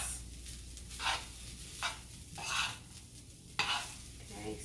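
Shrimp fried rice sizzling in a hot pan under steady frying hiss, with several distinct stirring and scraping strokes at irregular intervals, close and fairly loud.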